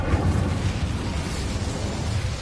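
Incendio fire spell cast in the Hogwarts Legacy video game, a dense low rumbling whoosh of flame that holds steady and loud for a couple of seconds, with no talk.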